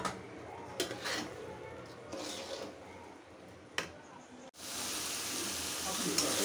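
Pulao being stirred in a pot at home, with soft scraping and shuffling over a low sizzle, followed by a steadier, louder sizzle.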